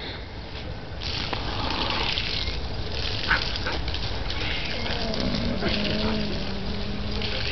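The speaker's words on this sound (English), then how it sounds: "Heard that water" Running water splashes across a yard in a steady, close rushing hiss that lasts throughout, with faint voices under it.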